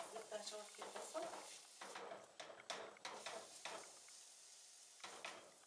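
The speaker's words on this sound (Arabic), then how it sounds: "هشوح الزبده، هشوح فيه البصل" Onions sauté in butter in a pan for a home-cooked mandi, a soft low sizzle broken by repeated stirring scrapes and light utensil knocks, faint and close.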